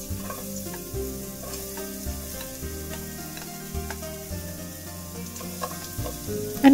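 Onion frying in a small amount of hot coconut oil for a Jaffna-style prawn curry, a steady close sizzle with stirring scrapes throughout and no talking.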